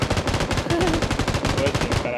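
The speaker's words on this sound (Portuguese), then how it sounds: "Nossa, 100 tiros na automática, Ramo." Rapid automatic rifle fire in the video game Battlegrounds, a dense unbroken burst of rattling shots, loud and close, with a brief voice murmur underneath.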